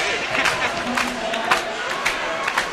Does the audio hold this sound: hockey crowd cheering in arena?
yes